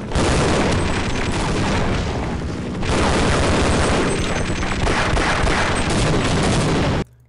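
Missile explosions in the video game Half-Life pound almost nonstop as loud, dense booming blasts with rumbling tails, dipping slightly midway before surging again and cutting off sharply.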